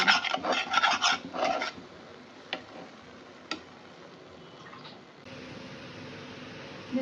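Shrimp mash being fried and stirred in a dry pan with no water, a burst of scraping rasps from the spatula at the start, then a few sharp ticks and a low steady sizzle.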